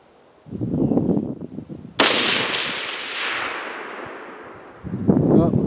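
A single sharp, loud rifle shot from an improvised sniper rifle fired during accuracy testing cracks out and rings into a long fading tail, with brief low voices before and after.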